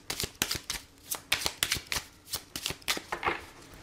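Oracle cards are shuffled by hand in a quick series of about a dozen crisp riffling bursts, close and clear, with no talking.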